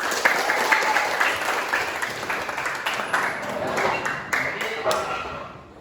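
Classroom applause from students during a biology lesson, a steady burst of many hands clapping for several seconds, fairly close and continuous before tapering off at the end.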